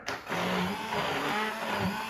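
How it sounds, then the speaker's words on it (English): A small electric immersion blender, not high-powered, whirs loudly up close in potato soup, its motor pitch wavering as it runs continuously for a couple of seconds, no speech. "use the immersion blender"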